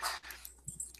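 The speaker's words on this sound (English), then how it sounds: "you may hear my dogs bark" Dogs at home let out a brief yelp or whimper, a single short burst that fades almost at once.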